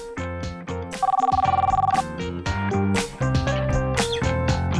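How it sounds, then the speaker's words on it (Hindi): A trilling electronic ring bursts out for about a second, rapid and pulsing, over loud background music that carries on around it. "जीनी फोन उठाओ प्लीज।"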